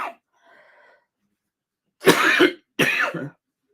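A brief faint wheeze, then two sharp, loud coughs close up, separated by a short pause.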